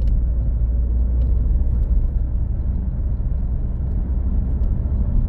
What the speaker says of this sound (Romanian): e o combinație de zgomot de vânt cu zgomot de roți